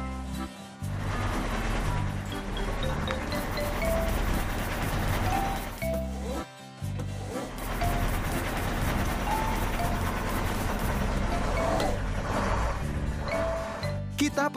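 Game audio for a fertilizer sprayer truck in a kids' wheat farming game: a steady low engine drone under bright looping background music with chiming notes, interrupted by two brief gaps.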